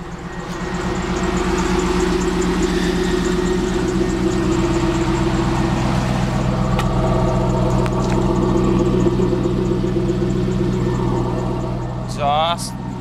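A 2000 Pontiac Trans Am engine idling with a deep, steady exhaust rumble, close and loud for most of the stretch, with a person talking over it.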